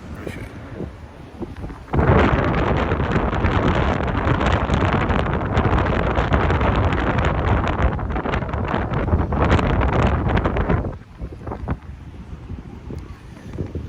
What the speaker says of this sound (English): You ever notice that whenever you're on water, it's always like super windy?